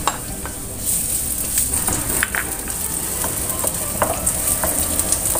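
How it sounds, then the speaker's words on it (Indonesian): Shallots and garlic fry in hot oil with a steady close sizzle, broken by scraping and clicking from stirring, all alone without voices. "Setelah minyaknya panas, masukkan bawang merah dan bawang putihnya."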